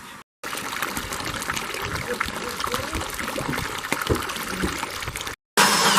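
Sediment-laden water drains from a water heater through a garden hose into a bucket outdoors, a steady rushing trickle heard close up, briefly cut off at the start and end.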